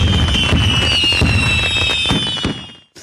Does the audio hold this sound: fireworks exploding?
yes